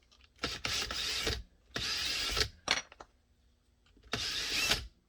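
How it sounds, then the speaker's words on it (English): A power drill whirs in three separate bursts, each lasting about a second, with short quiet gaps and some clattering handling noise in between. "we got to drill those too"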